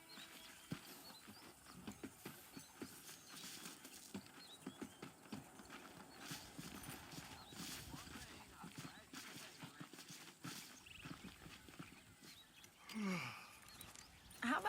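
Horse hooves clip-clop in a steady patter while riding in the video game Red Dead Redemption, moderately loud beneath background game sounds, with voices talking over it.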